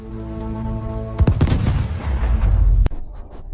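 Artillery shell bursts in a war battle setting: a sudden heavy boom cuts through a low droning hum, followed by rumbling, crackling detonations and a sharp final crack before fading to near silence.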